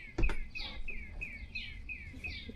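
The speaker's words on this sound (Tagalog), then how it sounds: "Ang daming ibon." Birds chirp outside after rain, a repeated series of bright, quick tweets in an even rhythm, fairly faint, with a short thump near the start.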